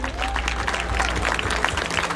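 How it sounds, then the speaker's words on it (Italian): A festival audience in Quartu Sant'Elena applauds, a dense patter of many hands over a low steady hum from the stage sound system, with a faint voice briefly audible. "fate un bel applauso ad entrambi"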